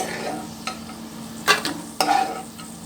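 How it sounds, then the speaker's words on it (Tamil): Cashew nuts frying in ghee while being stirred for a wheat halwa, giving a steady soft sizzle with a few sharp scraping stirs close by. "இந்த நெய்யில் ஃபஸ்ட்டு முந்திரி பருப்பு வறுத்து எடுத்துக்கலாம்."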